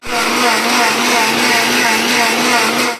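A mixer grinder whirs loudly and steadily, grinding fried coriander and mint for pani puri water, a continuous close-up motor drone that holds without pause from start to finish.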